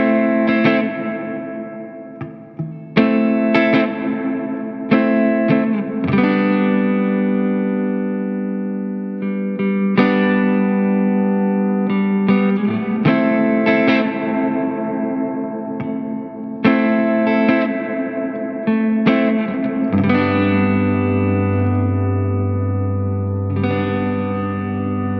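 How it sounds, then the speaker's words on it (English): An electric guitar played through a digital delay and reverb pedal rings out in sustained chords and notes with long echoing tails and a lush, washed reverb, a deeper drone entering near the end. "This is also a reverb pedal, and there aren't a whole lot of options for changing that reverb sound, just reverb time and reverb mix."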